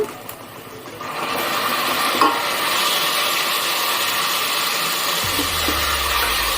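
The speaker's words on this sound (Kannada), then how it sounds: "ಸೊ ಇದು ಸ್ವಲ್ಪ ನಾವು ಫ್ರೈ ಮಾಡ್ಕೋಬೇಕು ಚೆನ್ನಾಗಿ" Tomato for churumuri frying in a pan with oil, a steady hissing sizzle that swells after a quieter start and runs on with faint stirring scrapes.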